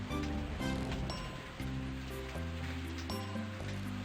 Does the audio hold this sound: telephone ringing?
no